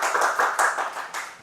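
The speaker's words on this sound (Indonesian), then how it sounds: "kita kasih tepuk tangan dulu untuk Bapak Salehudin" Scattered audience clapping welcomes Bapak Salehudin, a DPRD Kaltim member, onto a talk show, a brief burst of several hands with uneven bursts across the moment.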